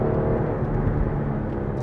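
A Porsche Cayenne 3.6 engine drones at a steady pitch from inside the cabin while driving, a loud, constant low rumble and whir with no speech over it.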